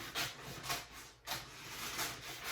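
Scissors or a trimmer cutting through sublimation transfer paper near the edge of a shirt on a small heat press setup, giving repeated soft rasping, rubbing strokes with a brief pause midway.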